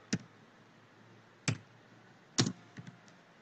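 Three or four separate keyboard key presses in a quiet room, spaced out about a second apart, with a short cluster of lighter taps near the end and no voices.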